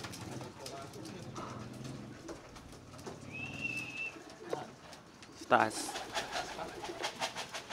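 Racing pigeons come back to the home loft at the end of a hard race, with soft cooing, wing flaps and scuffling landings close by while someone talks quietly over a steady outdoor background.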